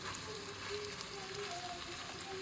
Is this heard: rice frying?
yes